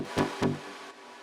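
A wavetable synth bass line playing dry, with its filter and saturation plugins switched off, three punchy low notes thumping out in a steady rhythm, loud and up close.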